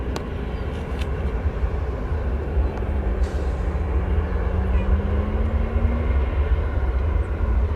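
Eva Air Boeing 777 airliner, just arrived from Taipei, taxiing past the American hangar at O'Hare: a steady, continuous engine roar and rumble with a faint rising whine, moderately distant and unbroken throughout.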